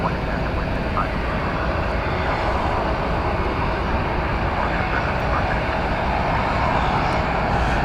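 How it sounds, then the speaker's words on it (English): Cessna 208B Supercargo Master turboprop arriving at Dallas Fort Worth airport from Abilene, Texas, a loud continuous engine drone and rush that stays steady throughout, with a voice talking over it. "This is a Cessna 208B Supercargo Master. Just came in from Abilene, Texas."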